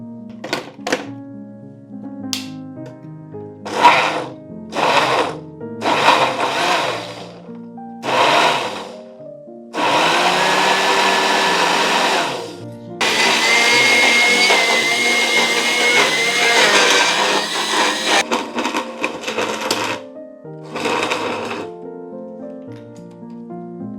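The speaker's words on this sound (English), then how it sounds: "then we blend the first batch" A countertop blender whirs in several short pulses and then two longer continuous runs, blending a mixed berry smoothie, loud and close, with pitch shifting as the contents churn.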